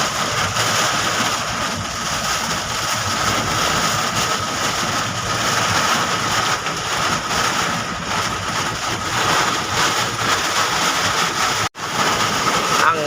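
Heavy rain pours down on the Skyway, heard as a loud, dense, continuous roar of broadband noise close to the microphone, with a brief dropout near the end.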